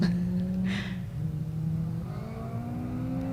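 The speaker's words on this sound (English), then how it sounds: "I can hear another car is coming through for the second time round" A race car engine on a circuit, heard at a distance as a steady mid-pitched drone that rises in pitch as the car approaches on its second lap, with no talk over it.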